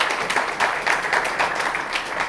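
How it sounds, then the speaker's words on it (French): An audience at a developer-community festival event applauds with dense, continuous clapping that pulses slightly, fairly close and filling the whole moment with no talk over it. "vous pouvez déjà vous applaudir."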